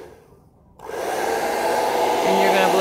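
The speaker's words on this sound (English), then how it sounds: "You're going to take your blow dryer." A blow dryer switches on and blows steadily on cool for a couple of seconds, drying freshly gelled eyelashes, with a loud, close, continuous whooshing airflow after a brief quiet moment.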